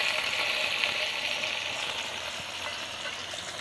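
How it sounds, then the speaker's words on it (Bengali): Pointed gourd (potol) frying in a pan, giving a steady, moderately close hiss and crackle of hot oil that holds constant throughout with no speech. "আপনি এই পটল দিচ্ছেন দেখলাম, হ্যাঁ এটাকে হালকা করে ভেজে নিচ্ছেন?"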